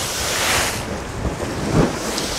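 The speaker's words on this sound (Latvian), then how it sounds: "Bet palika lielāka viļņa, ne?" Sea waves washing on a windy Baltic shore during a herring fishing trip, steady surf rumble with strong wind buffeting the microphone and a louder wave swell near the end.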